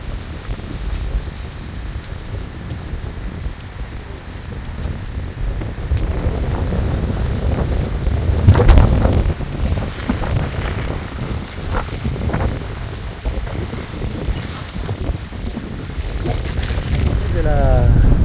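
Strong wind buffets a microphone at a cold mountain campsite by a tent near Khao Kho post office, roaring in heavy gusts that swell and fade throughout.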